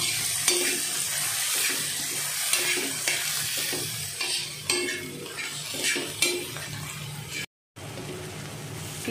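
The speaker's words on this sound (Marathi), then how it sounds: "अगदी पूर्ण टोमॅटो आणि कांदा एक जीव होईल असं व्यवस्थित भाजून घेऊया" Tomato and onion fry in ghee on a tawa over low heat for pav bhaji, with a steady close sizzle broken by repeated scrapes and stirring clinks of a spatula against the metal, and a brief dropout near the end.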